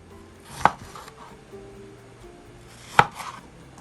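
Two sharp knife chops on a cutting board through long beans and tomatoes for a lentil curry, spaced a couple of seconds apart, close and crisp over a quiet room.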